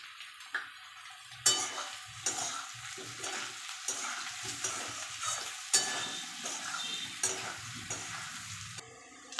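Kohlrabi and potato pieces sautéing with cumin, chili and turmeric powders and green chilies in a hot pan, a steady sizzle broken by repeated spatula stirs and scrapes against the pan, close up with no talking.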